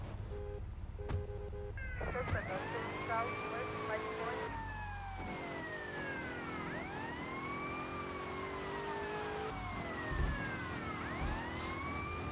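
A police car siren in GTA Vice City wails in repeated rising and falling sweeps, loud and close, over engine and traffic noise while someone talks over it.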